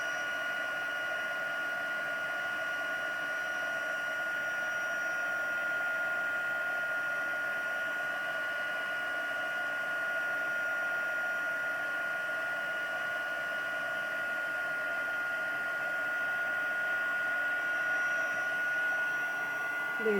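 Steady, loud whir of a hair dryer blowing on a junk journal page, running unbroken and close for the whole stretch with a constant tonal hum.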